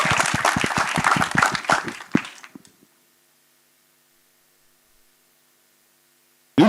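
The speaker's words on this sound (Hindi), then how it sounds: "जोरदार तालियां" An audience at a stage event for a film team bursts into loud, dense clapping for a couple of seconds, which then tapers off into near silence, followed by a brief sound at the very end.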